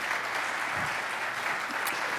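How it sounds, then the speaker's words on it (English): An audience claps for Professor Nicholas Miller after a university lecture, a full, even burst of applause sustained at steady volume, no voices over it. "Let's give a round of applause to Professor Miller."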